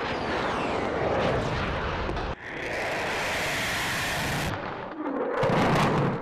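Turkish military jets roar overhead during a cross-border operation, a loud, sustained broadband rush of jet engine noise that shifts in character twice as the aircraft pass, with no voices.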